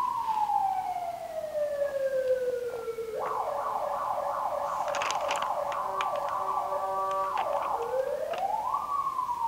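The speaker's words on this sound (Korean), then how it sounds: "소방차가 많이 지나다니네." Fire truck sirens wail and sweep through shifting tones, the truck passing at moderate distance, fairly faint and heard alone without voices.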